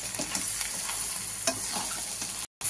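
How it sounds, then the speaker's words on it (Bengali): A previously fried fish head stir-fried with spices in a pan for fish-head cabbage chorchori, making a quiet sizzle with a few spatula scrapes, ending in a brief cut to silence. "দিয়ে দিচ্ছি ভেজে রাখা মাছের মাথাটা, এর সঙ্গে আরেকটু কষা হোক"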